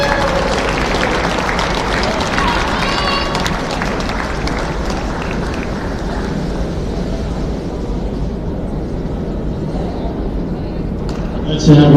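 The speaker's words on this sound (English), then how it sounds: "Let's have one more round of applause for your 2023-24 GM champions" Sustained applause and cheering from a basketball arena crowd honoring championship winners, a dense steady roar of clapping that fades slightly before a sharp burst of sound near the end.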